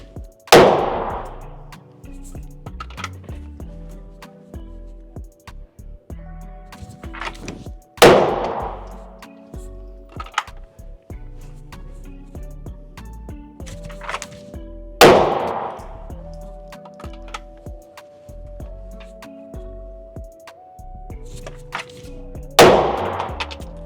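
Single pistol shots from a Glock 19X ring out at an indoor range, four sharp, loud cracks spaced several seconds apart, each with a clanging echo. Fainter clicks and handling noises fill the gaps.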